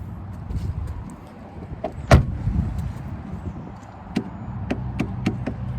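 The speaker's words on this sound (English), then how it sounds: "I'm gonna go ahead and lock my car up." A Pontiac Aztek being locked in a park on a rainy day, with a sharp loud click or chirp partway through, then a run of lighter ticks and clicks, all with no talking.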